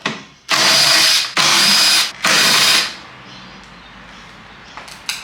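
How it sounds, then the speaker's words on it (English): A power tool spins a 12mm socket to remove the pull start mechanism on a Honda lawnmower, giving three loud, sustained whirring bursts in close succession, then falling to quiet with a few faint clicks. "let's start by using our 12mm socket to get the pull start mechanism off"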